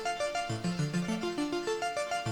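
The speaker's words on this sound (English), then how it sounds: "I'm going to use this glitch delay" A short melodic line in Ableton is run through a glitch delay set to half dry and half wet, producing quiet stepped pitched notes with rhythmic stuttering repeats that pulse evenly throughout.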